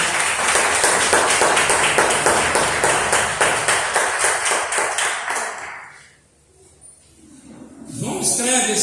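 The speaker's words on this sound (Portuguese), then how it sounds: "Aplauda Jesus por essa palavra" A church congregation applauds, with dense, steady clapping filling the room for about six seconds before it fades to near silence, and then a voice begins speaking.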